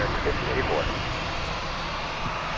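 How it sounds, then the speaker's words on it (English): Jet airliners roar at DFW Airport, a loud, continuous engine rumble close by with a voice speaking over it. "Maybe you just want to hear the planes."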